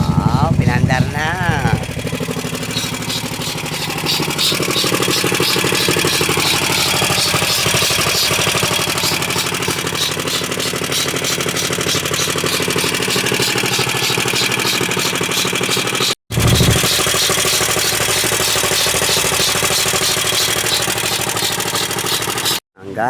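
A motorcycle engine starts and settles into a loud, close idle with a steady rumbling putter, holding on for a long stretch and cutting out briefly near the end, while people talk nearby.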